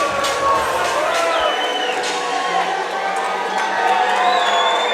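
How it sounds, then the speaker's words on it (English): Boxing crowd at the Salon Mezzanine arena applauding and cheering after a bout, a dense roar of clapping and shouts with scattered whoops, loud and sustained throughout. "He's getting applauses"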